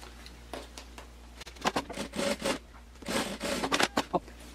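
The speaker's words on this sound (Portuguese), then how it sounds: "E vou costurar." Home sewing machine stitching a fabric handbag with a zipper and lining, running in several bursts of fast mechanical patter with short pauses between, fairly close and alone without talk.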